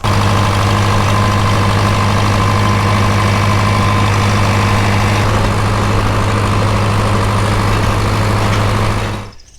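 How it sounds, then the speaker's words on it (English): A loud tractor engine runs steadily at close range with a deep, even idle, cutting off abruptly at the end, on a vegetable farm. "I'm gonna hop on my tractor"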